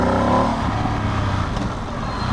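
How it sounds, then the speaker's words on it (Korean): A Ducati Streetfighter V2S motorcycle engine idles and pulls at low revs, a deep steady rumble that swells slightly then settles, heard close with no voices. "출발할 때 이 저 RPM에서 물리는"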